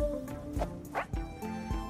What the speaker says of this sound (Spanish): ¡Uh, un perrito!